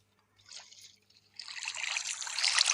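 Minecraft water begins flowing after a block is broken: a short faint trickle comes first, then a steady, brighter rush of running water builds and continues.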